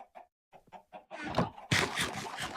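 Chickens on a farm built inside a survival video game cluck in short, spaced bursts that grow into a denser, louder flurry of overlapping clucks toward the end, with no talk over them.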